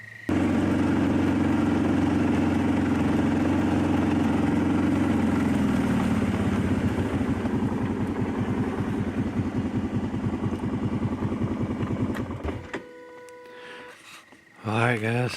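A vehicle engine runs steadily on a ride out to a hog-hunting field, a loud close droning hum with a rhythmic low pulse that fades and drops away near the end.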